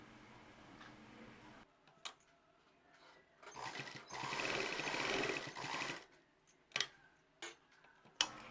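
A sewing machine stitching a frill frock near the neckline, heard as a close, steady whirring run of stitches in the middle, with clicks and handling sounds before and after.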